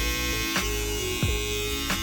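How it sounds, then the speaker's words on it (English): An electric hair trimmer buzzes steadily up close while being tapped and dragged to cut a thin line into hair, with brief bumps in the hum as the blade touches down. "I'm just going to use the right side of my trimmer. I'm going to tap and drag it down right there"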